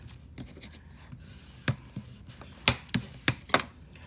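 Card paper folded and creased by hand while making a U-fold birthday card: a close series of crisp crackles, rubs and sharp pressing snaps that grow more frequent toward the end, with no talking.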